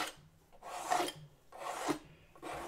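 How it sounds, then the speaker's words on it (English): A scraper drags paint off a textured canvas in three slow, rasping strokes spaced roughly a second apart, each swelling and fading, close and fairly quiet with no talking. "I'm putting it on and scraping it off."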